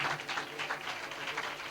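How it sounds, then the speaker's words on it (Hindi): A church congregation clapping to welcome a speaker, a steady dense wash of applause from many hands in a large room, continuous and moderately loud for the whole moment. "पाकरू को वेलकम करेंगे, जोरदार तालियां जाएंगे।"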